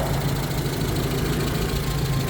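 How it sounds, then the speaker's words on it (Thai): A 2004 Suzuki Caribian's fuel-injected 1300cc G13B engine idles with a steady low hum and a faint rhythmic knock, close by and unchanging. "นี่นะครับ เครื่องยนต์ เป็นหัวฉีดนะครับ"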